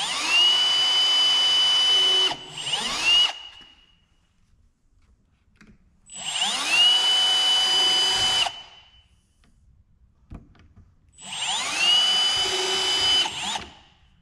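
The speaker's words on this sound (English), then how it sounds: "Got my small drill bit in here, go through the little hole." Three bursts of a power drill with a small bit whining up to speed and boring into wood, each lasting a couple of seconds, separated by brief quiet pauses.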